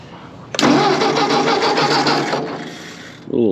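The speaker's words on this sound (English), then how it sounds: "Starter button, throttle, give her a little gas. I'm just gonna ignition on." A 1957 Ford Powermaster 841 tractor engine cranks and catches with a sudden loud burst, then runs roughly at a steady idle for about two seconds before cutting out, followed by a brief short rise near the end.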